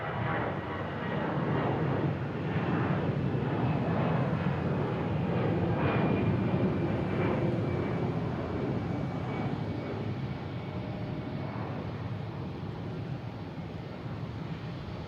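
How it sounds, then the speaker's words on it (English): An American Airlines A320 jet taking off at Boston Logan International Airport gives a steady, loud engine roar that holds for the whole stretch with little variation, no voices. "Next taken off is American Airlines at A320"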